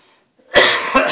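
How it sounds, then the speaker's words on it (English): A single sharp cough bursts out close by after a brief quiet, followed quickly by a second rougher cough. "You have to edit out those coughs."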